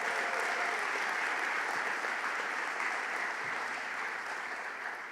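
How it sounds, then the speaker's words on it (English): Sustained applause from an audience at a downtown revitalization announcement in Westbury, honoring the mayor; dense, steady clapping fills the whole stretch and fades slightly at the end, with no voices over it. "Let's give the mayor a round of applause."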